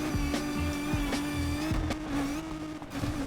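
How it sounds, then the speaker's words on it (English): A race car in NFS Unbound holds a steady, buzzy high-revving engine whine close up, with sharp gear-shift dips and brief tire squeals punctuating the continuous drone. "My car is back to sounding like an RC car"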